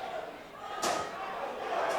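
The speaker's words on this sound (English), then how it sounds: "Another chair shot, I think." A sharp slam of a chair striking a wrestler cuts through a noisy crowd at a wrestling event, a single hard impact amid the arena din with voices around.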